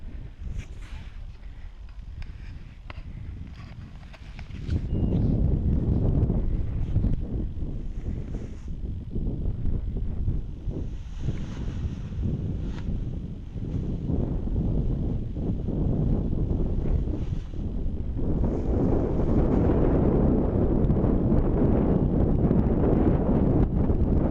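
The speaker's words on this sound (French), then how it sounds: "C'est toujours comme tout à l'heure, une petite rafale de temps en temps" Steady wind roaring across the microphone throughout a paragliding flight while soaring, rising louder after the first few seconds with occasional stronger gusts building toward the end.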